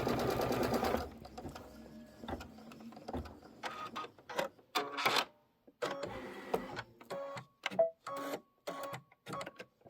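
A quilting sewing machine stitches a pillow border in short, slow bursts, each a quick run of mechanical needle clatter broken by pauses, close and quiet.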